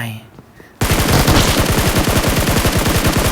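Rapid automatic gunfire from a PUBG Mobile match on the Livik map bursts in loud and close after a quiet moment, a steady string of evenly spaced shots running to the end.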